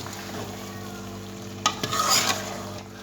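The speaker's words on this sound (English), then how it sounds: "You can see it's simmering very well," Pot of Nigerian okra soup with tilapia simmering on a stove, giving a steady low bubbling hiss with a brief burst of louder sizzling and stirring noise near the end.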